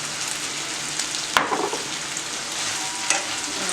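Chicken chop suey stir fry with a few drops of soy sauce being stirred in a hot pan: a loud, continuous sizzle with two sharp utensil clinks against the pan partway through.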